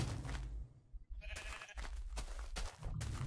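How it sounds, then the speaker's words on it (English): Several short Minecraft sheep bleats sound in quick succession, fairly close and clear, with brief pauses between them and no talking. "Sheep, sheep, sheep everywhere."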